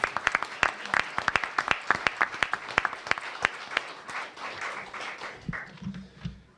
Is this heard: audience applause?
yes